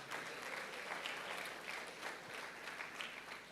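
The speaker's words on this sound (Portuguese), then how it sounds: "Pode aplaudir ao Senhor." A church congregation applauds during a Portuguese-language sermon, producing a faint, steady patter of clapping in a reverberant room that continues for a few seconds.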